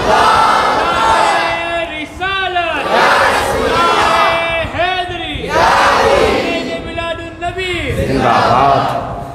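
A large crowd at a Mehfil-e-Milad religious gathering chants slogans in unison, three loud, drawn-out shouted responses rising and falling in rhythmic waves, close and forceful.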